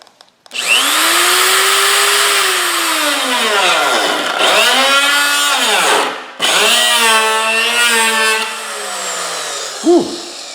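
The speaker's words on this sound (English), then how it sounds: "I'm going to get a cutoff wheel out here and we'll see what happens." A cutoff wheel grinds through a plastic windscreen on a 2022 KLR 650 motorcycle, a loud continuous whine that repeatedly slows and rises in pitch as it bogs into the soft, melting material, with brief stops near the end.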